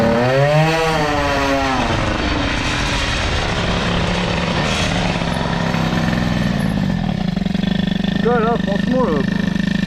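A boosted, nearly stock Peugeot 103 moped with a Doppler engine revs hard in a loud, sustained, high-pitched drone close by, while someone talks briefly over it at the start and near the end.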